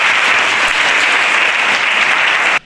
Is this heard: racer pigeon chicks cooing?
no